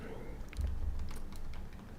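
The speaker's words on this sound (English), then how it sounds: "I'm typing that in the chat." Soft clicks of fingers typing on a computer keyboard, a short irregular run of keystrokes close by, fairly quiet over a steady room hum.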